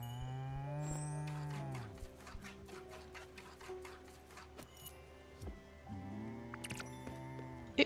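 Several cow moos from a cow in the farming video game Spiritfarer, with a long low call at the start and another near the end, mixed with soft game music and chimes.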